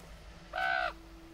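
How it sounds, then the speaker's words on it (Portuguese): A single crow in the horror game The Quarry lets out one clear, hoarse caw lasting about a third of a second, close and distinct over a faint steady background hum. "Um corvo ali, moça."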